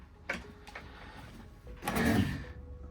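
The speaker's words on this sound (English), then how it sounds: "they open and close very nice and smooth" Drawers in a Thor Axis 24.1 motorhome slide open and shut with soft rolling and a few light knocks, close and fairly quiet, ending in a longer smooth slide.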